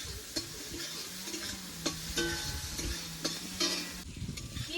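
Onion, tomato and carrot frying in a pan for semolina upma, with a steady sizzle broken by repeated sharp scrapes of a spoon stirring, close and fairly loud, with no talk.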